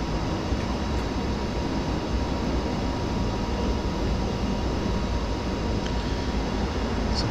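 A train runs steadily along the line in the video game Train Simulator 2020, a continuous rumbling drone of wheels and motor with a few faint clicks and no talking.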